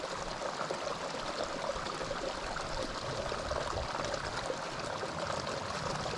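A creek flows steadily beneath a camping hammock site, a continuous close babble and trickle of water at moderate level, with no talk over it.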